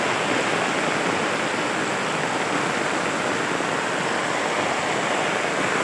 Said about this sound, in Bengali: মুষলধারে বৃষ্টি পড়ছে